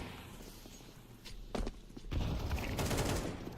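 Rapid automatic gunfire spray in a competitive shooter match, a burst of closely spaced shots at moderate loudness with no talking.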